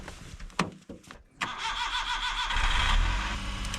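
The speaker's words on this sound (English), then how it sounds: "let's see if the car starts" A K-truck engine starts in freezing winter cold: a few clicks and stuttering cranks, then the engine catches and settles into a steady close idle.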